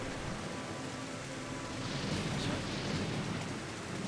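Steady, dense rain hisses without a break in a stormy level of Devil May Cry 4, a constant wash of noise with no voices.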